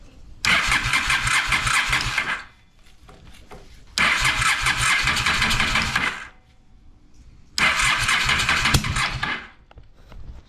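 The engine of a vehicle that sat unused for almost a decade is cranked three times, each attempt a loud, close, whirring churn of about two seconds that cuts off into near silence before the next try.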